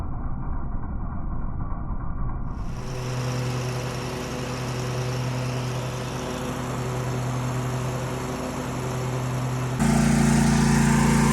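The engine of a walk-behind lawn mower with a newly installed deck belt starts up and runs steadily at close range, its loud drone holding for several seconds before rising in pitch near the end.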